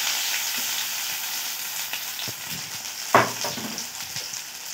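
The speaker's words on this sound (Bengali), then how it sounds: "পেঁয়াজগুলো আমি একটু নাড়াচাড়া করে নিয়েছি তেলে।" Chopped onions frying in hot oil with five-spice, a steady close sizzle that runs throughout, broken by a few soft stirring scrapes and one sharper clatter, with no voices.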